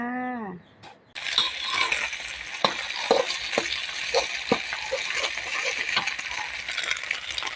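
Eggs drop into hot oil in a pan and fry with a steady, close crackling sizzle, broken by scattered clicks of a utensil, after a brief voice at the very start.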